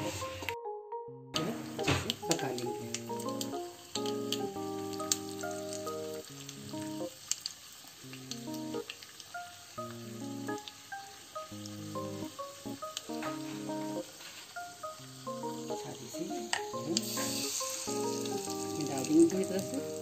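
Cashews and black chana dal sizzle in hot oil for a rava idli and sambar recipe, a steady crackling fry that runs throughout beneath melodic background music.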